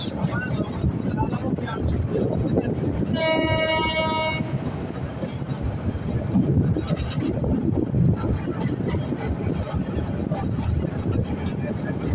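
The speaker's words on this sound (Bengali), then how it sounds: "পাহাড় মাঝখানে দিয়ে ট্রেন এগিয়ে যাচ্ছে" A train running between hills on the Chattogram to Cox's Bazar line gives a continuous loud rumble with heavy wind buffeting, and a brief high whine partway through.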